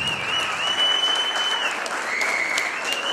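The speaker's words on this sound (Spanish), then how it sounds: "Señoras y señores, de sus aplausos." An audience at a ballet dance showcase claps warmly, a dense steady burst of applause heard close and unbroken for a few seconds.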